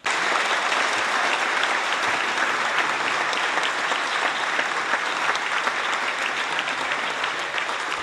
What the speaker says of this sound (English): I think Achim deserves our applause